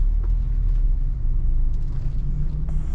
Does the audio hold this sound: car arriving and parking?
yes